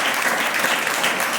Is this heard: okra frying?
no